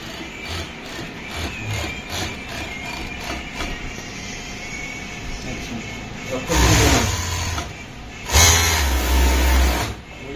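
Sewing machines stitch pants in a garment workshop, a steady rapid mechanical whir with louder, heavier bursts near the end.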